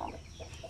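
A mother hen clucks in short, soft calls on a farm range area, faint against low background noise.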